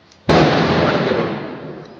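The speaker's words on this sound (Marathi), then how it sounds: "फटाके म्हणून असतात." A single loud firecracker bursts close by during Diwali celebrations, a sharp blast that decays into a long rumbling tail.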